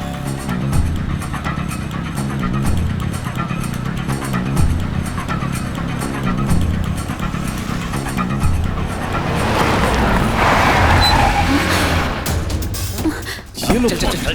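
A car speeds during a chase, its engine roaring and swelling with passing rushes and a tire squeal, set under music and urgent shouting voices.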